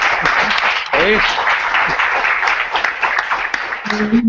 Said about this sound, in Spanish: Un aplauso para ellos, ¿no?